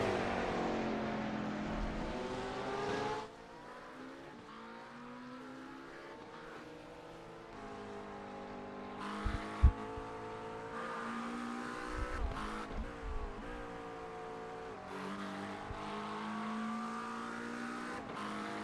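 Race cars lapping during a six-hour endurance race, engines droning and revving with rising and falling pitch as cars pass, moderately distant, punctuated by a few thumps, no talking.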